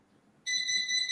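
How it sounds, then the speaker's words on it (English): An electronic alarm starts abruptly partway through and sounds from another room, a steady high beeping tone that continues to the end over faint background noise. "It's my alarm from my room."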